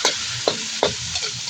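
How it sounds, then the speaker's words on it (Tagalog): Onion and tomato sautéing in a pan, a loud close sizzle with three quick scraping stirs in a short burst and no voices. "Gisang-gisa pa lang yan."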